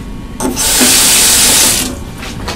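Water gushes from a sink tap in a loud, close, steady rush lasting over a second, starting abruptly and tapering off, with no talk during the flow.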